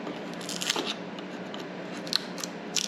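Scissors snip a thin part off a piece of material, several quick crisp cuts spaced across a few seconds, close and clear over a faint room background.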